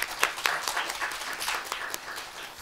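An audience at a spring school on social XR claps for a speaker. The applause is light and fairly faint, with scattered irregular claps from a modest crowd lasting a few seconds.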